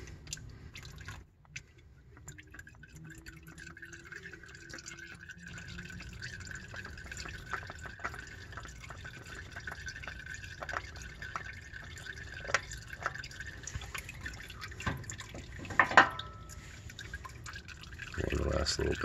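Motor oil drains from a removed oil filter on a 2012 Nissan Altima, a faint steady trickle and patter of liquid running and dripping into a catch pan, with a few louder knocks and handling sounds toward the end.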